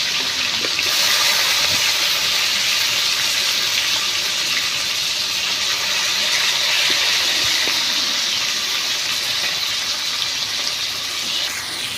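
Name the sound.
fish pieces frying in hot oil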